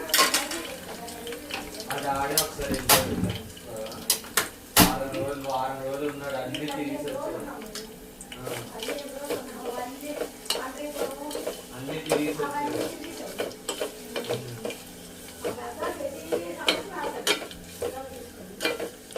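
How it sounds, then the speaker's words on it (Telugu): Leaves for homemade hair oil fry in a pan of oil, a soft sizzle under repeated sharp clinks and scrapes of a spoon stirring against the pot, while someone talks throughout. "ఇది బాగా క్రంచీగా అవుతుంది కదా ఈ ఆకులు, అలాగా చేసుకోవాలన్నమాట."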